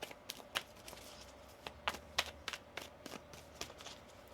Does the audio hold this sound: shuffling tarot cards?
yes